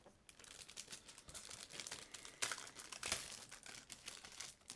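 Plastic and paper packaging of AliExpress Beats headphones crinkles and rustles close up as it is opened, with quick irregular crackles and a couple of sharper tearing bursts.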